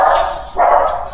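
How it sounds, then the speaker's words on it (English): Dogs bark at a door indoors, two loud, close barks in quick succession, with no talking. "My dogs heard something at the door"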